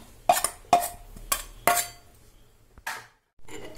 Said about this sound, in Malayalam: അരച്ച മിക്സ് ആഡ് ചെയ്യുകയാണ്